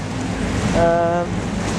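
A sailboat slices through open sea water off the Spanish coast near Cabo de Gata, giving a loud, steady rush of water and waves with wind buffeting the microphone and a brief tonal whine in the middle.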